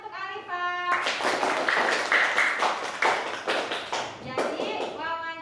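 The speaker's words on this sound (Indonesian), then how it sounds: "Tepuk tangan untuk Alifa." A classroom of children claps their hands together in a brisk burst of several seconds, close and lively, with a teacher's voice speaking before and after.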